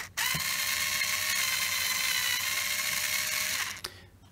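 An electric screwdriver whirs steadily for about three seconds while undoing the battery terminal screws on a Vespa GTS 300 scooter, starting and stopping abruptly, close and alone.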